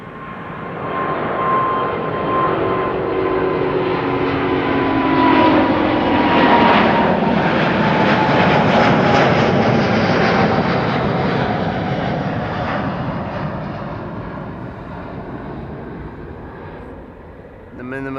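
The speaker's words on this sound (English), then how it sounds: "Lovely to see that they were flying an A350 in." A Finnair Airbus A350, registration OH-LWG, passes overhead at Amsterdam Schiphol Airport, its jet engines swelling into a loud broad roar, peaking at mid-passage and slowly fading away.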